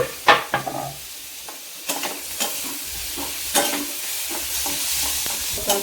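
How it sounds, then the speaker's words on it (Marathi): Tomato sautés with turmeric and asafoetida in a hot pan, the oil sizzling steadily while a spoon scrapes and stirs in several sharp, uneven strokes close by. "टोमॅटो टाकायचं, चांगलं परतून घ्यायचं"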